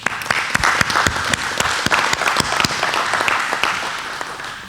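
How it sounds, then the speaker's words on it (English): A room full of people at an annual membership meeting applauds, dense clapping at full strength that gradually thins and fades. "Big round of applause."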